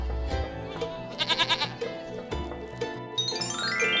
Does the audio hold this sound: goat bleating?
yes